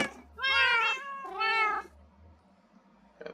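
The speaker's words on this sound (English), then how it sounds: "They're adorable little cats." Two drawn-out cat meows from the Minecraft video game, close and clear, one after another, then a quiet stretch with a faint click at the end.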